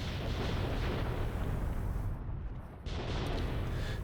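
Artillery and mortar fire in the video game Graviteam Tactics, heavy continuous rumbling booms filling the clip with a brief dip near the middle before the barrage resumes.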